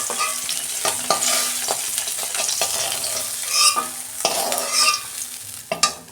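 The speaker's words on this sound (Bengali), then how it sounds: "মাছগুলো আমি সব ভেজে নিচ্ছি" Parshe fish frying in hot oil, Bengali style, a continuous bright sizzle with intermittent stirring and scraping clicks from a pan, close and fairly loud with no talking.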